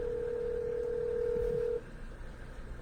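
A telephone call being dialed, with one steady electronic keypad or dial tone held for almost two seconds, then cutting off to a quieter line hiss with faint clicks.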